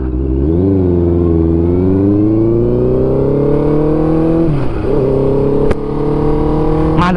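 A customized Honda CB650F motorcycle with a quickshifter revs loud and close, engine pitch climbing steadily with brief dips at each quick gear change, no talk over it.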